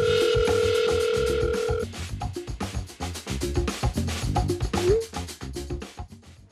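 A telephone tone sounds while a call connects for a Korean TV news segment: a steady held tone for about two seconds, then a dense run of beeps and clicks in the line.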